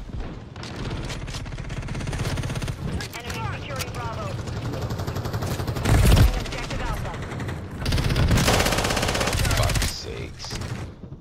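Automatic and single-shot gunfire crackles repeatedly during an intense Das Haus match in a shooter video game, with bursts sharpening around the middle and near the end. Game voices and chatter run through the whole stretch.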